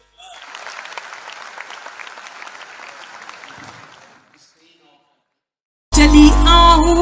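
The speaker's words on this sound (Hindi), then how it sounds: "एक बार उनके इस बात के लिए भी तालियां" Audience applause at a Hindi kavi sammelan poetry gathering, moderate clapping for about four seconds that fades to silence, then a sudden loud burst of music or amplified sound cuts in.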